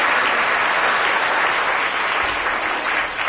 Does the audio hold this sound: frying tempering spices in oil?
no